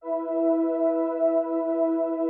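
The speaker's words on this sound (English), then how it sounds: "And then we got the lush blue carpet pad," A lush keyboard pad patch, one steady sustained chord of smooth stacked tones holding evenly for a couple of seconds, alone and close.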